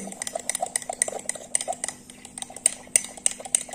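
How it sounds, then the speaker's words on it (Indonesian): A utensil stirs a homemade fishing bait mixture in a container, giving quick irregular scraping clicks and knocks close by, steady through the clip with a low constant hum beneath. "Ini kita aduk sampai merata ya. Kita aduk sampai merata, oke."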